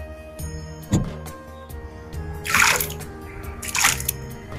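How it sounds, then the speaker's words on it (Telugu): Cut potato strips being washed in cool water: a few clear drips and splashy sloshes with louder swirling bursts, close and alone in a kitchen, no talking. "ఇట్లా కూల్ వాటర్ లో ఒకసారి కడగాలి ఆలుగడ్డని."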